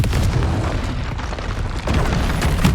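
Blasting curse from the Confringo spell in Hogwarts Legacy combat, heavy booming blasts rolling one into another with bursts of crackle, loud and near, a brief dip midway before the rumble surges again.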